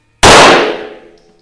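A single sharp report from a 1920 Reising .22 semi-automatic pistol fired at a shooting range, close and loud, with a metallic ringing tail that fades over about a second.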